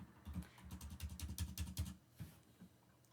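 Code being typed on a computer keyboard, a quick close run of soft key clicks for a couple of seconds, then a few isolated taps, faint overall.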